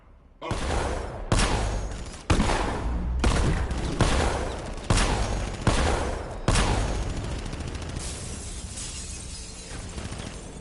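Gunfire from Batman: Arkham Knight rings out in about six loud, evenly spaced heavy bursts, each followed by a ringing, shattering tail, and the last one fades into a long echo.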